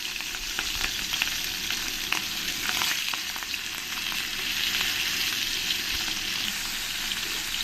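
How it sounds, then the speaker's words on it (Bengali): Pieces of katla fish sizzle steadily as they fry in hot oil for a fish kaliya, a dense continuous crackle at even loudness with small spits and pops throughout and no voices. "এই মাছগুলো এক এক করে তেলের মধ্যে দিয়ে সব ফ্রাই করে নেবো"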